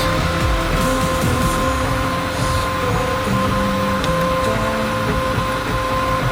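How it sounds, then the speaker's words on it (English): A 3D printer lays down DEEPLEE PLA filament on a long print, running a constant droning mechanical hum with shifting motor tones and small clicks throughout. "Printing extremely well at the moment."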